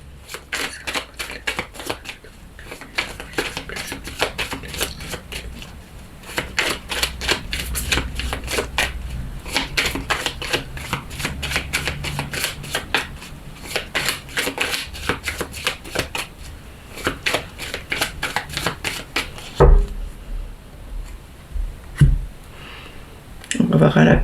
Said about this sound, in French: On va faire une coupe et on va prendre 6 cartes.